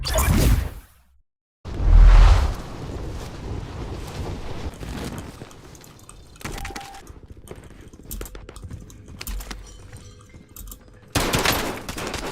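Bursts of G3A3 rifle fire from a solo match of Call of Duty Warzone, loud rapid volleys at the start and end with scattered shots, footsteps and game effects between them.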